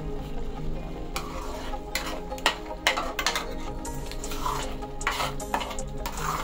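Spices and chili powder being stirred through a Malvani-style fresh cashew curry (kaju bhaji) in a pan, with steady scraping and clinking of the spoon against the metal in irregular bursts over a low sizzle, close and moderately loud.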